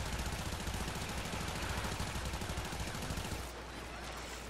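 Soma assault rifle fire in the Warframe video game, a dense, loud, continuous automatic stream of rapid shots lasting several seconds before cutting off.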